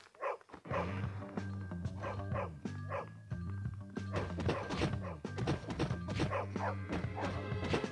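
Chad's dog in the video game Bully: Anniversary Edition barks and yips repeatedly, sharp close barks in quick irregular bursts throughout, with some thumping and game sounds around them.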